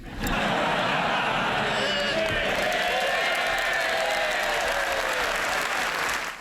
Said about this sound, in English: His own MPs roared their approval. Labour clapped politely